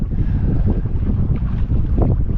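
Sailing yacht Florence tacking at 5 knots up the Sound of Luing with the tide: steady rushing water along the hull and wind buffeting the microphone, loud and continuous with no voices.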